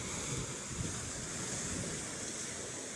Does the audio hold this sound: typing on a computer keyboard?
no